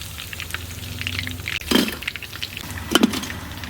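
Chicken 65 deep frying in oil, village style: a steady sizzle and bubbling throughout, with two sharper clinks of metal against the pan partway through and near the end.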